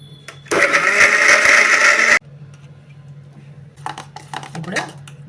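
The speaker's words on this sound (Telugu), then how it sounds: "ఇప్పుడు ఇది మొత్తం మిక్సీ వేసుకున్నాం" A blender whirs loudly for about two seconds blending mango pieces and milk into a milkshake, then stops abruptly, followed by quieter clinks and rustling.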